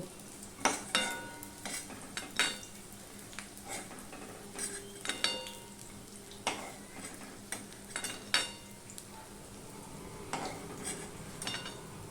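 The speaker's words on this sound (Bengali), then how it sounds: "এইভাবে আমি এই বড়াগুলো ভেজে নিয়ে বড়াগুলো আমি ভেজে নেব" Lentil fritters (bora) frying in a pan sizzle quietly beneath repeated close clinks and scrapes of a utensil against the pan, coming in irregular bursts.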